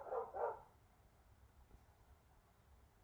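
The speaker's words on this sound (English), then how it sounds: "The dogs are barking." Dogs barking in two quick bursts at the start, moderately near, then fading into a quiet background.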